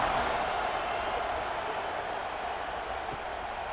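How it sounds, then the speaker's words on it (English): A college football stadium crowd at UCLA roars in a steady, distant wash of cheering before a kickoff, with faint commentary voices underneath. "this crowd now ready to get behind them"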